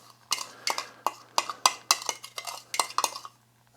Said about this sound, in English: I'm going to stir it in with that butter.